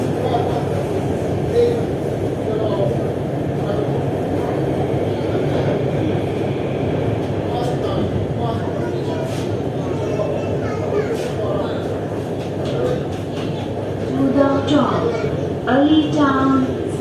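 Lahore Orange Line metro train running on its track, a sustained rumble and rolling hum heard from inside the carriage, with people talking over it and a few brighter squeals near the end.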